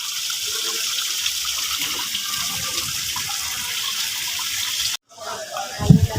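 Water flows in a steady, even hiss for several seconds, then cuts off abruptly, followed by brief rustling and handling noise.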